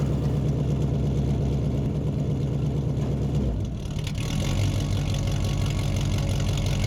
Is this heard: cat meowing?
no